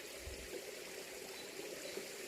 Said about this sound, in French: danse aquatique avec ce petit ruisseau qui court au milieu de cette forêt